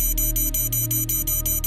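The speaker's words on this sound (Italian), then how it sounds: "Il tuo cellulare e il tuo computer portatile si illuminano per messaggi e notifiche ricevute." A phone notification ringtone in the Lovecraftian visual novel Innsmouth plays as a loud, bright electronic tone pulsing in a quick, even rhythm over a sustained low hum for just under two seconds.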